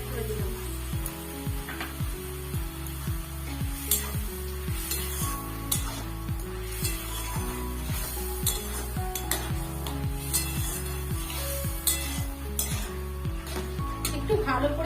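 Chopped tomato sizzles in frying Tangra fish mustard curry while a spoon stirs and scrapes against the pan with clinks, the steady sizzle continuous and close under a repeating music bed; no one speaks.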